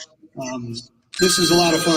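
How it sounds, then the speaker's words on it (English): An alarm clock rings in a loud, sustained bright burst near the end, after someone speaks briefly over a shorter ringing trill at a racing points-championship celebration. "And that's our alarm clock."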